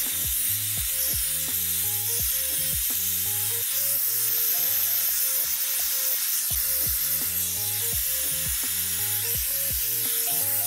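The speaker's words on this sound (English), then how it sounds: "you actually want to blow dry this in. Medium heat, high airflow." A hair blow dryer runs on medium heat with high airflow, making a constant broad airy whoosh throughout, partly masked by rhythmic background music.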